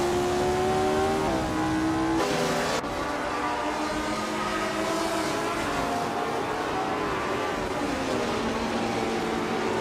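Race car engines in a racing video game whine loudly and continuously, with several overlapping pitches climbing and shifting as cars overtake one another, a sudden brief change in tone early on, and no talking.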